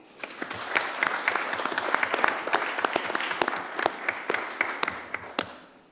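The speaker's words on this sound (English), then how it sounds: "Another round of applause." Applause at a city council meeting honouring officers receiving an Emergency Medal: a dense, steady round of clapping from the chamber, moderately loud, holding for several seconds with sharper individual claps standing out before it thins at the end.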